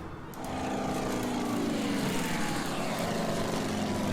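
Propeller-driven attack aircraft in the Order of Battle war game, striking over the Kasserine Pass, produce a steady droning engine roar that swells in over the first half second and then holds loud and even, with no talk.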